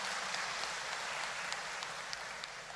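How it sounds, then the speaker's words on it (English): Soft, thin applause from mourners at a eulogy, a steady patter of hands heard at a distance with a few sharper claps, continuing for a few seconds. "A round of applause for that, please."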